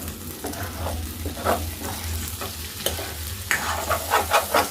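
A brinjal mustard curry (vankaya aavapettina kura) is stirred in a pan. A spoon scrapes and clatters in repeated strokes over a soft simmering sizzle, and the strokes get louder toward the end. No voices are heard.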